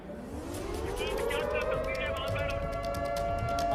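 Air raid sirens wailing in Israel during wartime, a rising and sustained howl that climbs steadily and holds, heard amid low background noise and traffic-like rumble.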